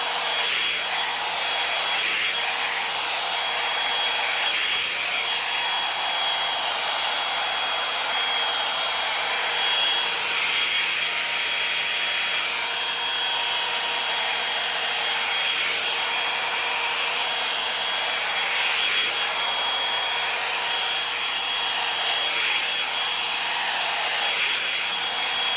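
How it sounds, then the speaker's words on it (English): A hair dryer blows hair dry with a continuous, loud, even whoosh for the whole stretch, close by and without talk. "I'm definitely not doing anything else after I blow dry my hair"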